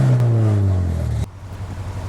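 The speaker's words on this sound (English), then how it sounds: "I have upgraded exhaust system," A car engine rumbles loudly with a deep, throaty exhaust tone, then drops abruptly to a lower, steady idle.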